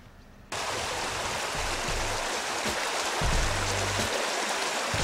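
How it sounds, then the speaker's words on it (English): Treated mine water flowing out of a treatment wetland, a steady broadband rushing like a stream or small cascade that starts abruptly and continues close and fairly loud, with occasional low thumps from handling. "This is our processed water. This is released into the natural environment after it goes through our treatment wetland here."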